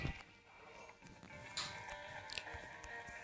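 Short Minecraft Pocket Edition sheep bleats recur over a steady background hum, moderately loud and close, with a few brief clicks between them.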